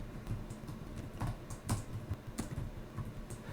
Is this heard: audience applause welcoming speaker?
no